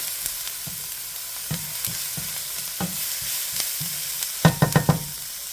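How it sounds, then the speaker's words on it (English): Garlic sautés in a hot pan with a steady sizzle, punctuated by close, sharp scrapes and taps of a utensil stirring, with a quick cluster of stirring strokes near the end and no talk. "I'm going to let this saute for about a minute real quick. Don't want to burn the garlic."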